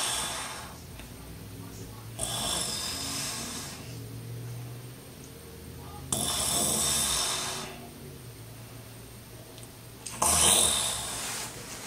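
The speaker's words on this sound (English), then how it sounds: "So as you guys could hear, like, I still snored" A person snores while wearing a Zyppah anti-snoring mouthpiece, with three rasping, breathy snores spaced about four seconds apart and quiet breathing between them, close to the microphone.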